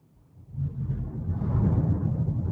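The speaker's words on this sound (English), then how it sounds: "Thunder." Thunder heard during a live online class rolls in as a deep, swelling rumble that builds and stays loud for a couple of seconds, heavy and low with no voices over it.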